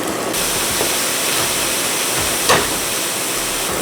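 Mushrooms in a frying pan for vegan creamy vegetable soup give a steady, loud hiss and sizzle throughout, with a brief soft flare of spatter partway through as they are flipped.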